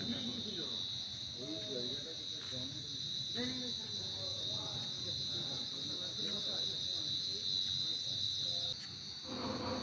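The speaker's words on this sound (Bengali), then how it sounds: "ঝিঝি পোকার ডাকও শোনা যাচ্ছে।" A constant high, shrill trill of crickets at night near cottages in Purulia fills the background as a person talks over it at length.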